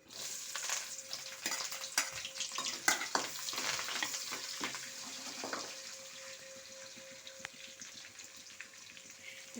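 Mustard seeds, chana dal, onion, curry leaves and green chillies fry in hot oil for carrot rice, a steady crackling sizzle with spoon scrapes and stirring knocks, fairly close, easing toward a softer hiss, no voices.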